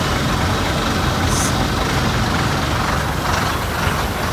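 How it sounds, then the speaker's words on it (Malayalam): A truck engine idles at a steady, unbroken rumble, broadband and constant for a few seconds, with no other clear sounds above it. "ട്രക്ക്"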